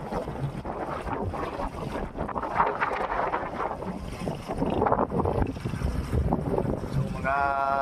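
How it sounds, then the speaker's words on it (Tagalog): Strong wind gusting into the microphone outdoors, a loud rough roar rising and falling unevenly, with a person talking over it. "malakas yung hangin dito."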